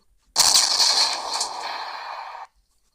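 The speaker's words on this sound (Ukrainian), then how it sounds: "Та зараз будемо стріляти." A tank cannon firing in Roblox WW2 Tank Simulator: one sudden loud blast that decays over about two seconds into a fading rumble, followed by silence.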